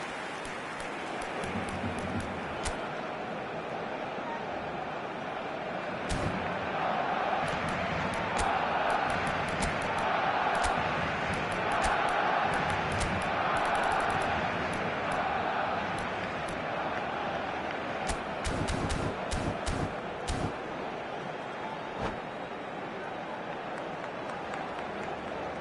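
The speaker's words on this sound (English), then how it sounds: "at least the crowd are appreciative of his efforts" Football stadium crowd in a video game applauding, a broad steady wash of clapping and crowd noise that holds for the whole stretch, with a few sharper spikes along the way.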